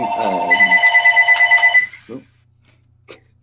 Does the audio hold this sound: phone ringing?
yes